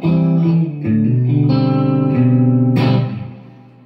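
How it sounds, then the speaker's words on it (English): Music Man Sterling Cutlass electric guitar played through an amp with reverb, sustained chords and single notes ringing out with a reverb tail fading at the end, loud and close with no talking. "Josh has real tube reverb, and the Fender bass breaker has digital reverb"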